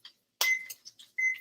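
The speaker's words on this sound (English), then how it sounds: "let's put the timer on" A kitchen timer being set while cooking crab cakes gives a few short, high electronic beeps and clicks, close and fairly sharp, with brief gaps between them.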